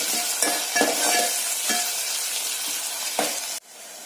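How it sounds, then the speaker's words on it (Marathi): Onion and tomato sautéing in a pan for a dried shrimp curry, a steady broadband sizzle with a few sharp stirring scrapes spread through, close and fairly loud, cutting off abruptly near the end with no talking. "तर त्याच्यामध्ये आता मी टोमॅटो टाकते। तो पण आपल्याला चांगला मऊ होईपर्यंत परतून घ्यायचा आहे।"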